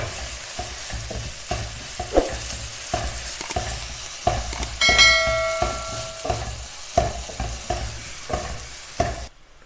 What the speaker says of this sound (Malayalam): പൊടികളുടെ എല്ലാം പച്ചമണം മാറുന്നവരെ നന്നായിട്ടൊന്ന് വഴറ്റി കൊടുക്കാം.